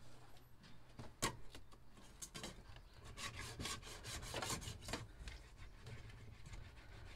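Thick, months-old dried spray paint is rubbed off art equipment by hand, making a close, dry scrubbing and rasping sound in uneven strokes, with occasional sharper scrapes throughout.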